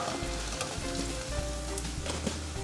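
Egg pieces for Egg Manchurian deep-frying in hot oil, a steady close sizzle with bubbling crackle and occasional soft stirring clinks, no voices.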